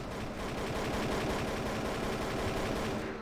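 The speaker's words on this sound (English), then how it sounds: "I hope that gunfire is for the good name of Beethoven." Sustained rapid automatic gunfire in the game Garry's Mod, a dense continuous rattle of shots running loud and steady from start to finish with no talk over it.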